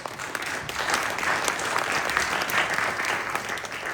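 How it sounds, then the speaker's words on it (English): Audience applause at a meet-the-mayor-candidates event in Pleasant Hill, a steady wash of many hands clapping at even loudness throughout, with no voices over it. "Would you give them a round of applause?"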